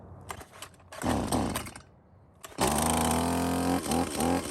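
A couple of quick pull-cord rasps and sputters, then a chainsaw engine catches and roars into a steady, loud, close idle.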